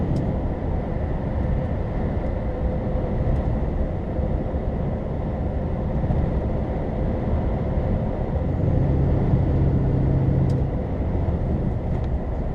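A Scania Class 1 HGV truck drives along a road near Accrington, its engine droning in a steady, continuous rumble with road noise heard from inside the cab and no talk.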